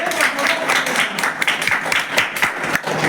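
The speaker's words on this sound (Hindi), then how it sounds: "एक बार ताली बजाइए सर" An audience claps together in a steady, dense burst of applause that lasts throughout, loud and close.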